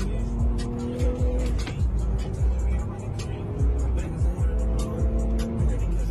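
A turbocharged BMW G-series car roars past at a street race, with engine revs rising and falling, brief tire squeal and more cars passing nearby amid crowd noise.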